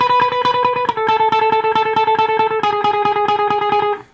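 A lead guitar part is played as a steady run of even 16th notes, picked rapidly through effects in a bright, close, driving pulse that holds for about four seconds before stopping, with no voices.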